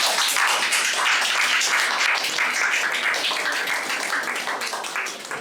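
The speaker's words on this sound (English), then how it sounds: "So one last round of applause for the panel." Audience applause for an opening panel at a zine fair, steady dense clapping from a room full of people that holds loud throughout and thins slightly toward the end, with no talking over it.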